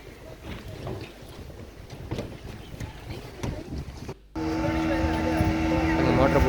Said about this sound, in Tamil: மோட்டர் போட்டில் போயிட்டுருக்காங்க எல்லாரும்.